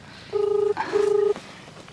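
Two steady electronic telephone tones sound in quick succession, each about half a second long, clear and close over a quiet background.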